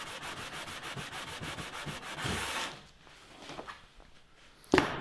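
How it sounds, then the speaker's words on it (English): A Honda CR-V 2.0-litre K20 A4 cylinder head is sanded by hand on sandpaper in quick rhythmic rubbing strokes for a few seconds. Quieter scraping follows, then a single sharp knock near the end. "you are sanding the whole head just to try and remove the centre part"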